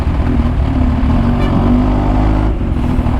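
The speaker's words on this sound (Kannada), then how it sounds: "ಟ್ರಾಫಿಕ್ ಜಾಮ್ ಆಗಿಬಿಟ್ಟಿದೆ." Cars and trucks stuck in a road traffic jam near Krishnagiri make a loud, continuous low engine drone and idling rumble close by, with no breaks.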